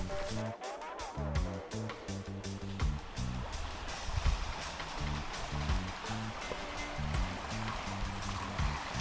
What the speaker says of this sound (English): you can see the river come down